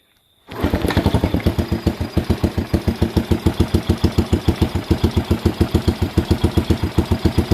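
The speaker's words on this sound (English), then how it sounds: "You hear that? The motor's sweet as." A rebuilt Postie bike motorcycle motor starts up and settles into a steady idle, a rapid even chugging pulse that stays close and loud with no voices over it.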